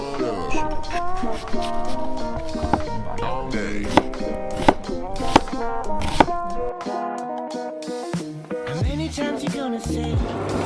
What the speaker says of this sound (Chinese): 所以我们现在首先第一步就是我们把洋葱切碎。